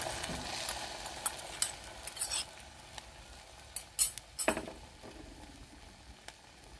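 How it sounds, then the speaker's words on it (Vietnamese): Green banana slices fry in a pan until golden on both sides, giving a steady low sizzle broken by sharp utensil scrapes and clinks as they are turned, with no talking. "Rồi mình chiên sơ cho chuối nó vàng đều hai mặt gì nè."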